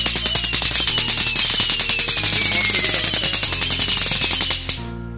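An electronic string firecracker with LED light and remote fires a loud, rapid, even train of sharp cracks for almost five seconds, then stops abruptly.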